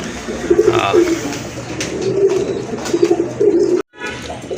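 Domestic pigeons, including a female running pigeon, coo repeatedly in soft, low, rolling calls at close range, with someone talking over them throughout.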